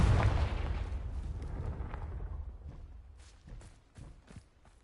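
A Confringo blasting spell in Hogwarts Legacy lands with a heavy, loud boom at the start that rumbles and fades, followed by a few lighter scattered thuds and steps.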